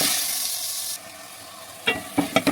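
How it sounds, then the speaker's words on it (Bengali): Lentils sizzle in a hot pan, the hiss loud at first then dropping, followed by several quick scraping stirs near the end. "ডালটা দিয়ে আমি কষাতে থাকি।"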